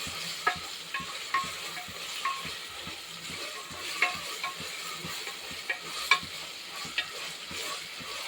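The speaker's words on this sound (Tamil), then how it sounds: "பாருங்கள், ஆனியன் பாருங்கள் பொன்னிறமாக வந்துருச்சு" Sliced onions fry in a pan until golden, giving a steady broad sizzle broken by regular scraping stir strokes about every half second, close and moderately loud with no talking.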